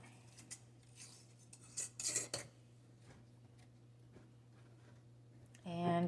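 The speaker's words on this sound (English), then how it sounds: "Put a lid on it." A lid goes onto a jar holding a homemade soap mixture with baking soda, a few faint scraping, clinking twists over a steady low hum, followed by a voice.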